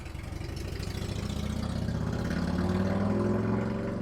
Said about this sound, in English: Thanks, motorcycle.